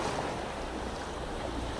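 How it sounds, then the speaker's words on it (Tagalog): Sea waves churn in a steady, loud wash of surf mixed with wind buffeting the microphone, with no voices. "Wala, nagkakaalon."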